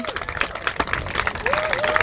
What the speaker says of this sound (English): Give yourselves a round of applause for being here today and showing up